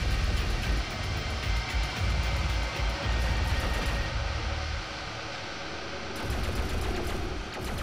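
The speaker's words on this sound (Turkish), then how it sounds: "Silah sesleri geliyor." Rapid, dense gunfire from the video game Doom Eternal, loud and continuous with sustained bursts and heavy low-end thumps throughout.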